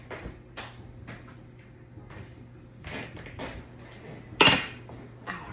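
A lid is set onto a pot on a home kitchen stove, giving one sharp metallic clink near the end, preceded by softer scattered kitchen clatter.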